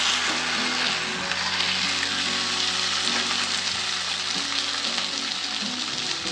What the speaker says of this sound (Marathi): ते आता गरम तव्यावर टाकून घेते.